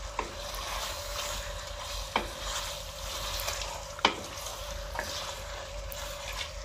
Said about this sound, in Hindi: धनिया डालने के बाद इसको अच्छी तरह मिक्स करते हैं अल्टम पल्टम करते हुए